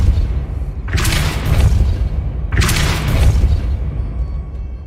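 A Depulso force-push spell cast in the Hogwarts Legacy video game: two loud whooshing bursts with a deep thump beneath each, about a second and a half apart, over a low steady rumble.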